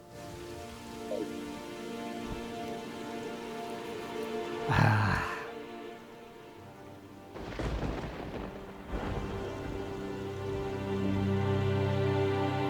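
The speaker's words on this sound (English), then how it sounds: "Okay, now there's a storm." A rainstorm with thunder in the Terraria video game: steady rain hiss under game music, broken by two deep rumbling thunder bursts, the second rolling longer.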